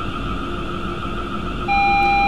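A train cab's AWS warning alarm sounds for a cautionary double-yellow signal: a steady, loud electronic tone holds throughout, then a second, stronger pitched tone cuts in sharply near the end and continues without break.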